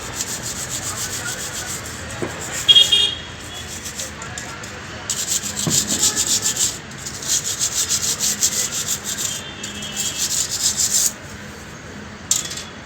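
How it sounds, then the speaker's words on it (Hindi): A PC remote is rubbed hard to scrub off scratches and dust, giving a close, loud rasping scrub in long repeated strokes with short pauses between them. "मैं इसको घिसकर इस पे जो भी स्क्रैच वगैरह है या जो भी डस्ट बस्ट है उसको रिमूव कर लूँगा।"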